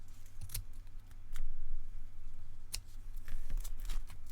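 Scissors trimming the book-page edges of a junk journal cover, a few short crisp snips spread across the moment over a low steady background hum.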